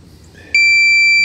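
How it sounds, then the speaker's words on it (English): A Minelab Pro-Find 40 pinpointer gives a steady, loud electronic beep that starts abruptly partway through and holds continuously to the end. "Now I'm going to mash the plus key and hold it down and listen for the beep."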